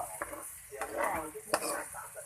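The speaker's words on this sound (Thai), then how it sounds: "แล้วคน คนให้เนื้อสุกให้หมด" Chicken hearts fry in a pan for a Thai basil stir-fry while being stirred, with a soft sizzle under scraping utensil strokes and a few sharper clinks against the pan, close and fairly quiet.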